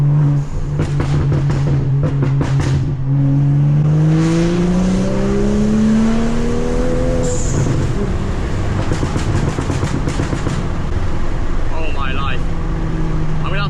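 A loud straight-piped exhaust on a BMW M235i tuned for maximum burbles revs up and down with rising and falling tones, then crackles and pops as it settles, sustained throughout.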